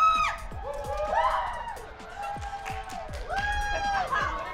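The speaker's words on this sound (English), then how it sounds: "Oh, the crowd loves it." A crowd at a water balloon dodgeball game in a packed stadium cheers and whoops loudly, with overlapping excited voices rising and falling over several seconds.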